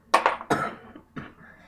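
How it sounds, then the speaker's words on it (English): Several harsh coughs close to the mic from a person with a cold: a quick pair, another after a pause, then a fainter final one. "Sorry, I keep on coughing because I kind of have a cold."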